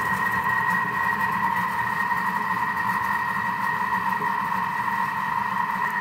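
A Thermomix kitchen machine mixes chocolate chip cookie dough at speed 3, giving a steady, loud motor hum with a constant whine that never changes over several seconds. No one speaks.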